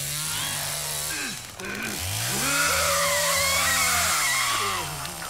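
A chainsaw in a video game runs loud and close, its whining motor rising and dipping in pitch as it revs for several seconds without pause.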